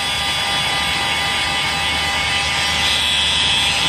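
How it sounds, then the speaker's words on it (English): A heat gun shrinking heat-shrink tubing over a soldered wire connector, a loud, steady, close blowing roar with a high whine, unbroken for the few seconds. "I use the heat gun"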